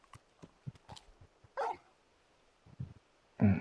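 Torgal, the dog in Final Fantasy XVI, lets out a run of short, fairly quiet barks and yips and then one louder, fuller bark at the end.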